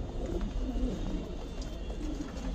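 Pigeons, including Bell Bottom and Chandna breeds, coo softly and repeatedly in a loft, low throaty calls over a constant background hum with no talking.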